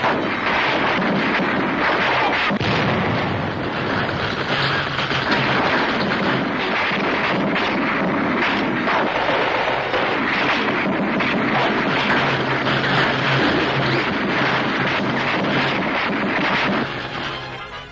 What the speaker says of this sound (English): A German tank is within range. It's a direct hit